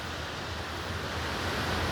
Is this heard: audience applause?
no